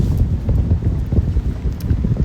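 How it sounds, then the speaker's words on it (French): Strong wind buffets the microphone aboard a sailboat, a loud, continuous gusting rumble with no talk. "Regardez bien, excusez pour le vent."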